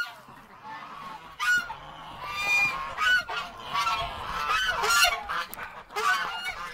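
Geese honk in a cold winter farmyard, a cluster of repeated nasal calls that overlap irregularly at close range over a faint background hum, with no talking.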